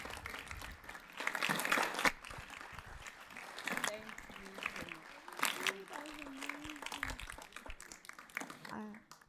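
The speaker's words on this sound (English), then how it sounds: "can we get another round of applause for Ms. Samachi Chris Asaluka?" Applause from the audience at an opening ceremony, rising in a burst of clapping early on and then thinning, with a voice talking over it in the later part.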